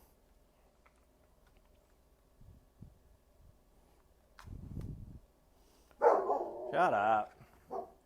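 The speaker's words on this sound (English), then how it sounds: "UPS is here and the dogs are just going to bark like crazy" Dogs bark and yip loudly nearby in a quick cluster of sharp barks at a UPS delivery, following some quiet thumps and a brief spoken remark.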